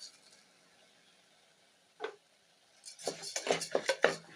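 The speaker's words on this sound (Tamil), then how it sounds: "ஒரு நூறு கிராம் பைத்தம்பருப்பை நம்ம இதில் ஆட் பண்ணிடுறோம்" Moong dal going into a pan and being stirred: near-silence at first, one faint clink, then a quick run of metallic scrapes and taps from a spoon against the pan.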